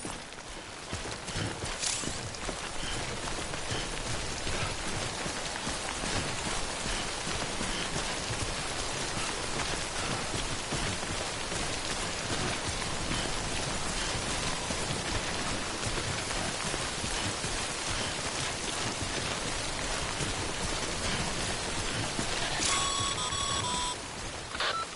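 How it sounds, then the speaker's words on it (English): Heavy timefall rain pours steadily in a PS4 video game, a dense, even hiss that holds for the whole stretch, with a few brief electronic tones near the end. "Don't stay out in the rain any longer than you have to."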